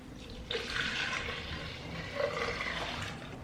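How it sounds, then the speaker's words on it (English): Green juice pours from a bowl into a jug in a steady rushing, splashing stream at close range, with a slight surge midway and no talk. "I'm actually going to pour it into this jug"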